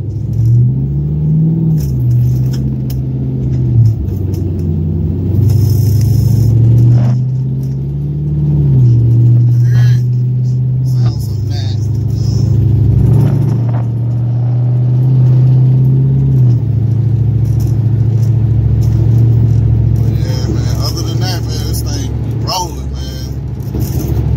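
An El Camino SS with a swapped L83 V8 accelerates on a highway, its deep engine rumble rising and falling in several long pulls with cabin rattles, steady and close.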